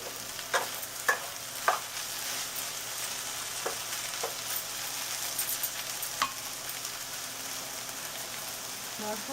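Spicy okra masala sautéing uncovered in a pan, a steady close sizzle with occasional sharp scrapes and taps of a spatula stirring against the pan bottom.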